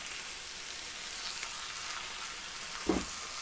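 Onion and carrot stewing in a pan give a steady, soft sizzle near at hand, broken near the end by a single dull thud as liver is added.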